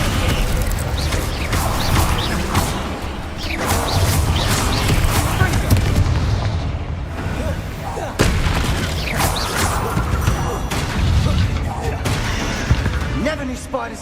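Confringo blasting spell explosions in Hogwarts Legacy, a rapid series of loud booming blasts and crashes over a dense game soundtrack, with voices speaking at times between the impacts.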